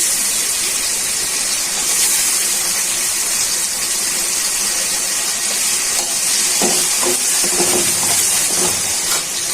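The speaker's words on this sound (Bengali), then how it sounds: "পেঁয়াজটা প্রায় ভাজা হয়ে গেছে, এখন মাংসগুলো দিয়ে দিচ্ছি ভালো করে ভাজা হওয়ার জন্য।" Beef is frying with onions in a pan for beef noodles, giving a loud, continuous hissing sizzle with a few crackling bursts toward the end and no voices.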